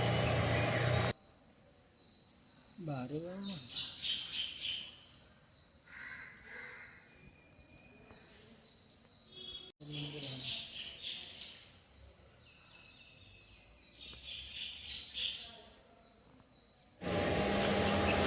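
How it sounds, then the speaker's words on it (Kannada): Crows caw in short, repeated bursts around Murusavira Math in Hubballi, fairly close and mixed with lighter bird chirps over quiet outdoor ambience, with louder noise at the start and end. "ಇಲ್ಲಿ ಕೇಳ್ರಿ ನೀವು, ಪಕ್ಷಿಗಳು ಸೌಂಡ್ ಕೂಡ ಬರುತ್ತೆ."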